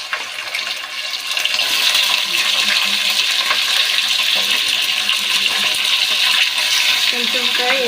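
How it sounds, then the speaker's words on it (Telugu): Chicken pieces dropped into a hot pan with cumin and curry leaves, crackling and sizzling steadily at close range with a bright, dense hiss and occasional stirring. "దీనికి బాగా కడిగి పెట్టుకొని చికెన్ అయితే వేస్తున్నాను"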